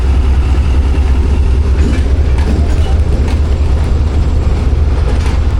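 The Pakistan Express, led by a ZCU30 locomotive, approaches Rohri Junction in Pakistan: a loud, continuous rumble of rolling rail cars with rhythmic clickety-clack from the wheels, close by and without speech.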